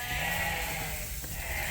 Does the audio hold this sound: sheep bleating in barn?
yes